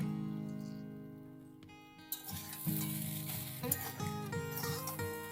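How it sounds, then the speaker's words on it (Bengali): Fried peanuts and flattened rice sizzle and crackle in a pan for Bengali poha pulao, a quiet frying hiss with intermittent stirring clatter over a sustained musical background. "দু মিনিট ধরে একটু ভেজে নেব"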